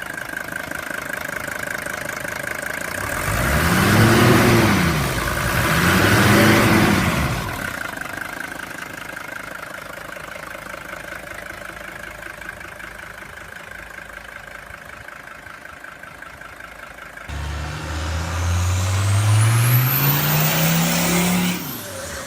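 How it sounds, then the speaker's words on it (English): Loud turbocharged engine running up close, revved twice in rising and falling swells, settling into a rough steady idle, then revved again near the end. "This engine is loud and distinctive"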